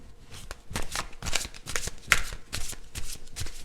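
Tarot cards being shuffled by hand in a steady run of crisp riffling and flicking bursts, close and fairly loud, with no talking.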